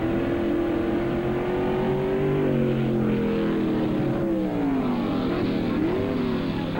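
Two Camaros at a 1986 drag race, engines roaring hard as they launch and accelerate through the gears, loud and sustained with rising and falling pitch as shifts land.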